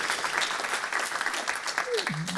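A church congregation applauds steadily during a sermon, a dense wash of clapping at moderate distance, with a voice calling out briefly near the end.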